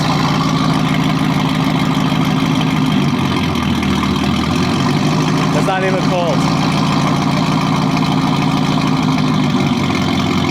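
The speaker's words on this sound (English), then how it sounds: "This is just idling, guys." A car engine idles with a steady low rumble throughout, while a person speaks briefly over it.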